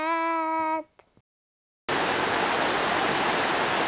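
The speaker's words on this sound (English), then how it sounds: "this is the 50th time we've had to stop today for a rain break" Heavy tropical rain pours down in Jakarta, halting an outdoor commercial shoot. A brief tone cuts off into near silence, then a dense, steady hiss of rainfall comes in loud and continuous.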